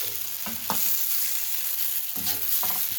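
Soy sauce and barbecue sauce being stirred into garlic and ginger frying in a pan: a steady close sizzle with two bursts of spoon-scraping stirs, no voices.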